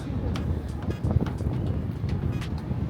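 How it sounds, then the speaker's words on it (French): Steady wind buffeting a nearby microphone, a low rumbling roar that stays constant throughout with occasional gusty bumps. "il y a du vent"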